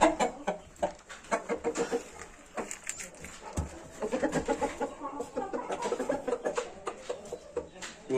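Chickens in a Turkish backyard flock cluck in repeated short close calls, with a dog-like bark and other noises mixed in and a voice speaking intermittently.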